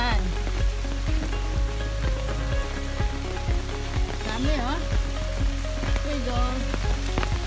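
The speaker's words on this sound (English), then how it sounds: "It's raining." Steady rain patters on surfaces outdoors during mango picking, a dense continuous hiss with scattered sharper drops, fairly close and even throughout with no talk.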